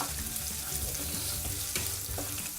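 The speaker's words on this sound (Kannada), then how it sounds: "ಬೆಳ್ಳುಳ್ಳಿ ಒಂದು 5 ಎಸಳು ತೊಗೊಂಡಿದ್ದೀನಿ, ಇದೆಲ್ಲ ಚೆನ್ನಾಗಿ ಫ್ರೈ ಮಾಡ್ಕೋಬೇಕು" Garlic cloves and onion frying in a pan for ridge gourd chutney, a steady close sizzle throughout with occasional stirring scrapes and no talking.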